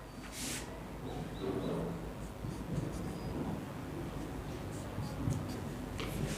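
Pen scratching steadily across paper as chemistry notes are written during an online class, soft continuous strokes with faint background hiss and no talking.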